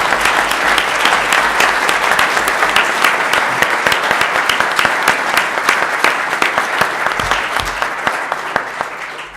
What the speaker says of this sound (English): So if you can give them a round of applause.